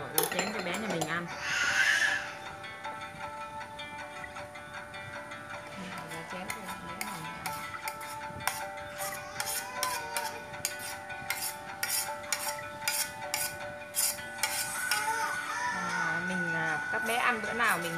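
Shrimp and Malabar spinach porridge is spooned into a baby's bowl with a long run of quick, rhythmic clinks and taps of a spoon on the bowl, close and moderately loud over soft background sound.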